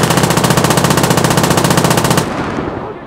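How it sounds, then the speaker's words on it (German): Continuous rapid machine gun fire in a video game set in the Siege of Warsaw, loud and close, with game-like sound effects, cutting off abruptly and leaving a fading rumble. "Die schießen auf uns!"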